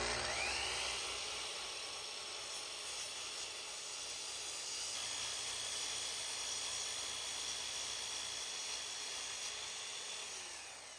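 A power saw cuts through wooden desk legs at a 7-degree angle, with painter's tape on the wood, giving a steady, loud whine and hiss for about ten seconds before easing off at the end.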